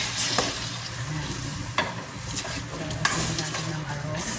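Chicken hits a hot pan with a steady, close sizzle and frying crackle, broken by a few sharp scraping stirs of a utensil against the pan.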